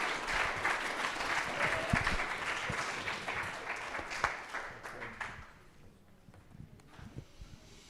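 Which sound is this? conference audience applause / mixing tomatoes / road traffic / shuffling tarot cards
conference audience applause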